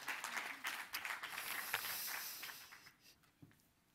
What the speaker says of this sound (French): on peut encore les applaudir une dernière fois